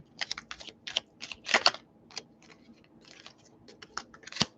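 Tarot cards are shuffled and riffled at a table in quick, crisp bursts of papery clicks and flutters, close and quiet, with brief pauses between the runs of card noise.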